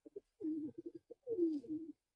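Sialkoti pigeons give a few short coos, then two longer rolling, throaty coo phrases with brief pauses between them, close and quiet with no voices.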